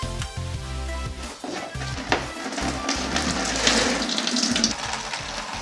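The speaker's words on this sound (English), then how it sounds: "First thing I'm going to do is drain out the wiper fluid." Windshield wiper fluid pours and splashes steadily for several seconds as it drains from a car's tank, a continuous gushing drain with a low mechanical hum underneath.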